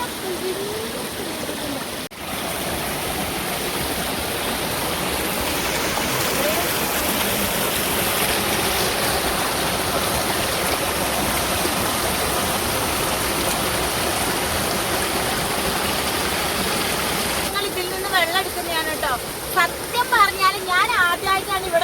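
Mountain water pours and splashes down steadily in a constant rushing hiss, close and even, with a person talking over it near the end.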